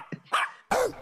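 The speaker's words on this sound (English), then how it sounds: "You got the little dog bark?" Two or three quick high yips from a little dog, played as a short sound effect on an NBA betting show, close and sharp with a brief pause between them.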